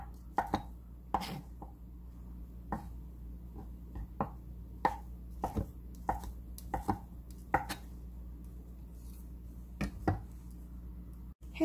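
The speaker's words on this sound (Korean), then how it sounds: "맛살을 썰어줄게요." Crab sticks being sliced with a knife on a cutting board: a series of sharp, close, distinct chopping taps at an irregular but steady pace, in a quiet room.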